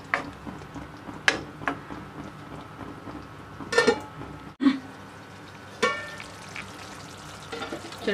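Chicken curry simmering in oil over a low flame, a faint steady bubbling and crackle with occasional soft pops and light clicks, quiet and close with no voices.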